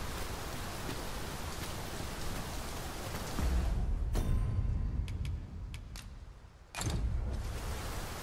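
Steady heavy rain in the video game Dragon's Dogma 2 hisses throughout, briefly swelling louder, then dropping away for a moment before the downpour resumes at full strength.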